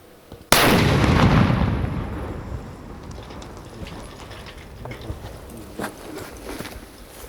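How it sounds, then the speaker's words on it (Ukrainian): A controlled detonation of an enemy artillery shell by police bomb disposal: a sudden loud blast erupts, followed by a long rumbling roar that fades into scattered clatter and debris sounds. "сапери поліції безпечно заклали вибухівку та знищили ворожий снаряд. Вибух!"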